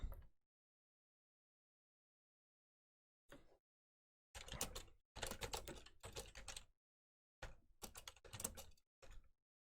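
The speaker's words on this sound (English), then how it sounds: "I'm just typing in" Short bursts of rapid clicking keystrokes on a computer keyboard, close and crisp, separated by silent pauses, with no voices.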